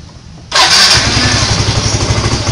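A Yamaha Mio motorcycle engine catches at the turn of the key and settles into a steady, loud idle with a rhythmic low chug, heard up close with no talking.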